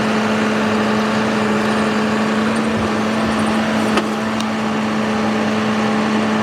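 A tractor strains at a steady, loud engine drone while lifting a huge rock in a field, with a faint clank partway through.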